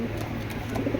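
A racing pigeon of the Doremon bloodline gives a soft, low coo, close and brief, against a faint background murmur.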